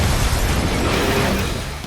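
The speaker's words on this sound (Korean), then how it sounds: "차에 총을 쏴서 폭발하는 경우입니다" A car blows up after being shot in a movie scene, a loud, dense blast rumbling with broad roaring noise that fades slightly toward the end.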